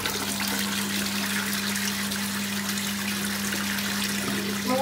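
A toilet flushes, rushing and gushing water that runs steadily and fairly loud throughout, alongside a constant low electrical hum, with no talk.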